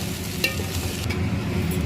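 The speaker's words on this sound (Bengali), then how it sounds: "কিছুটা ভাজা পেঁয়াজও এতে দিয়ে দিলাম।" Fried onion stirred into a sizzling pan of mixed vegetable pulao, a Bengali rice dish: a continuous low frying hiss with a brief spoon scrape near the start, heard close and alone.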